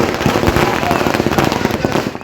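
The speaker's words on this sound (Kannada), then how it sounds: "ಬಿಜೆಪಿ ಮತ್ತು ಜೆಡಿಎಸ್ ಕಾರ್ಯಕರ್ತರು ಪಟಾಕಿ ಸಿಡಿಸಿ ವಿಜಯೋತ್ಸವ ಆಚರಿಸಿದರು" Firecrackers burst in a dense, continuous crackling barrage as BJP and JD(S) workers celebrate a victory at Doomlight Circle in Kolar, loud and close, the pops coming rapid and overlapping before fading at the very end.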